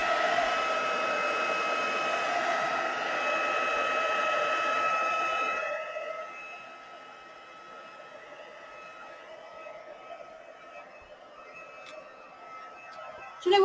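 A hair dryer blows steadily on a watercolour painting for about six seconds with a loud whirring hiss, then shuts off, leaving faint room noise and a brief knock at the end.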